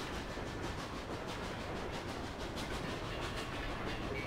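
A train in The Escapists 2, heard as a steady rolling rumble with faint rhythmic clickety-clack from the rails, continuous and fairly loud, with no talk.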